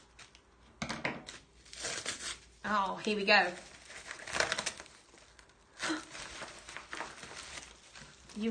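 A wrapped pin mail package is cut open with scissors, giving irregular bursts of crinkling and tearing with quiet pauses, close by, as a person talks.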